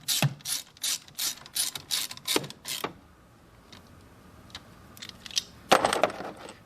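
A ratchet tightening a car battery terminal on a 2018-2024 Buick Enclave or Chevy Traverse, with a loud, close burst of rapid clicking strokes, then a quiet pause and one more short burst of clicks.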